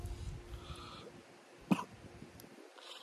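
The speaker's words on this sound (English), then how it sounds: "That shit's gonna make me cough." A single sharp cough from someone smoking a large blunt outdoors in nature, a short loud burst in the middle of quiet, breathy background with faint rustling before and after.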